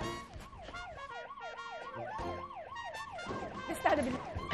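An ambulance siren wails in a steady rising-and-falling pattern throughout, loud and fairly close, with a brief burst of nearby noise toward the end.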